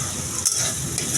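Fish curry with potatoes is stirred and sautéed in a pan, a dense, bright frying hiss close by with the soft scrape of a spoon and a brief thump partway through.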